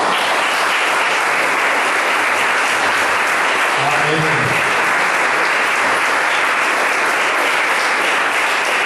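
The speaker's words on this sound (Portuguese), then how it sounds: "As palmas logo ao Deus." Church congregation breaks into sustained loud applause during an evening service, a dense continuous roar of clapping hands across the whole stretch, with a voice briefly audible underneath.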